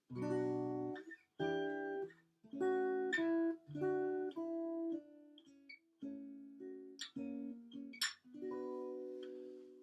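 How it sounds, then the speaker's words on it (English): Acoustic guitar strings plucked by fingers, a series of ringing notes and chords with short pauses between them, close and clear with no talking. "So to make the strings vibrate, to pluck them, we can either use our fingers"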